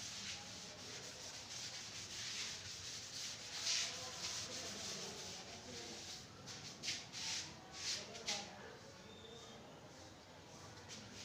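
Writing is rubbed off a board with a steady, soft scrubbing that runs throughout, growing into a few sharper, rhythmic strokes toward the end, with faint room noise behind it.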